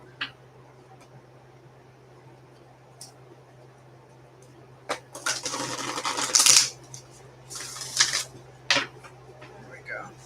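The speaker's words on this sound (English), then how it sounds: "I need to shuffle them again." Tarot cards shuffled during a live reading, a few soft riffling bursts and clicks partway through, close and moderately loud over a quiet room hum.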